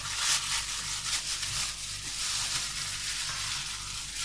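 Yogurt sizzling in about a spoonful and a half of hot oil as a gravy begins for steamed chargha, a steady bright crackle that holds at an even level, with faint stirring underneath and no talk.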